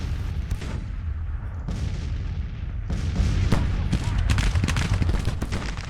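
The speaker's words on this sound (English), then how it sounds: "A lot of artillery fire concentrating right there." Artillery fire in a video game battle over a broken skirmisher unit by a fence, rendered as dense, continuous booms and rumbling blasts that thicken and grow louder in the second half, with no talking.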